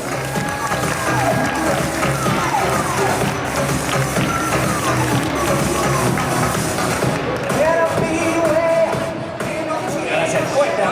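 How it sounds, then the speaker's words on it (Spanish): Crowd applause rings out at an anime convention cosplay catwalk, a steady, dense clapping from a large audience that holds for the whole stretch, with crowd noise and background music mixed in. "Y ahora un fuerte aplauso para Soki"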